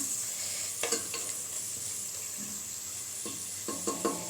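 Spices fry in a pan for a winter melon and prawn curry, a soft continuous sizzle with a few scraping stir strokes and light clinks.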